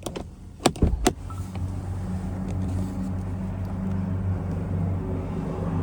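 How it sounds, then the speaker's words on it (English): Power folding side mirrors on a 2024 GMC Yukon XL SLT Duramax diesel give a few sharp clicks and thumps up close, followed by a steady low motor hum inside the vehicle. "So power folding mirrors with blind spots in them."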